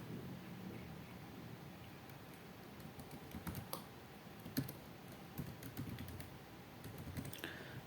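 Computer keyboard typing while a name is entered into a villa reseller referral payment form, a run of quick, light, close key clicks with brief pauses between short bursts.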